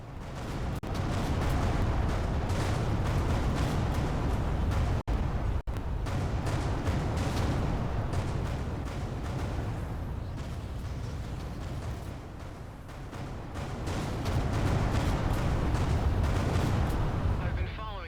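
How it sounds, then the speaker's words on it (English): Heavy, sustained explosive rumble fills a space-combat scene in the video game Everspace 2, dense booming bursts rolling on with two brief sharp breaks midway, loud and continuous throughout. "Vacate this area at once. Explosion imminent."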